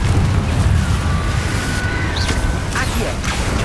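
A Confringo fire spell blasts in the Hogwarts Legacy video game, a loud, rumbling burst with crackling debris held across the whole short stretch, a few brief whooshing spell sounds layered on top.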